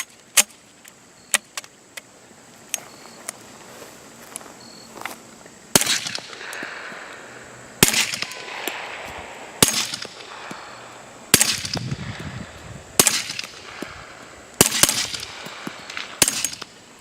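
Pistol shots fired through a Griffin Revolution 45 suppressor: about seven sharp, muffled cracks at uneven gaps, each with a short ringing tail, mixed with smaller clicks and handling noises.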